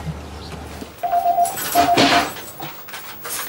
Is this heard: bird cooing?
yes